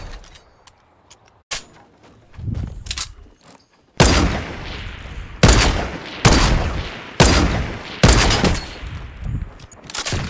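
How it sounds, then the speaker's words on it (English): Gunfire in the video game Fortnite: scattered faint shots at first, then a run of loud, sharp blasts spaced about a second apart, each trailing into a rumbling echo. "Shots on Fortnite."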